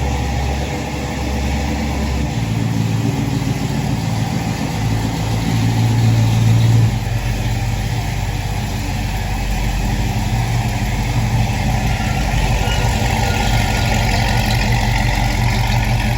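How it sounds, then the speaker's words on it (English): A big block engine in a Chevrolet squarebody truck idles steadily with a deep, rumbling, continuous drone, close and loud, with no voices over it. "Got the big block running."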